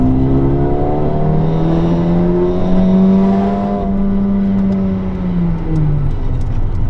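A Mercedes A35 AMG sedan accelerating hard, its engine note climbing steadily in pitch through a long gear, loud and close, then dropping briefly as it eases.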